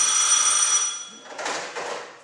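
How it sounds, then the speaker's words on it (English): An old telephone bell rings loudly and close for about a second, then two shorter bursts of ringing follow after a brief pause. "When I opened my door, the phone was ringing."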